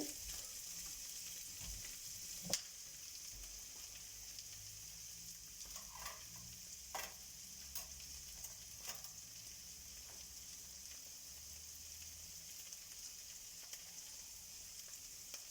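Kefta mixture stirred in a frying pan gives a constant soft sizzle, with occasional brief scrapes and taps from the utensil, close and without talk.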